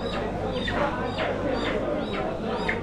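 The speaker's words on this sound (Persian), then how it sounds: "اینجا هم که بازار مرغ جوجه است" Chickens and chicks at a poultry stall in the Rasht municipal bazaar in Gilan, Iran, give repeated short chirps and clucks over a steady busy market hubbub. People talk in the background.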